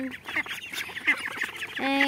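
Pet domestic ducks give a quick series of nasal quacks and honks, several birds calling close by in an uneven run over about two seconds.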